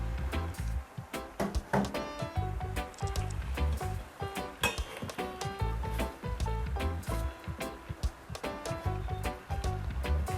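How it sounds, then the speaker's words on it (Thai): Southern Thai curry paste is stirred into coconut cream in a pot, producing a dense run of quick metallic clinks and taps as the utensil strikes the pot, loud and close with a soft bubbling underneath. "เราก็จะคนให้พริกแกงละลายแล้วก็ผัดให้หอมค่ะ"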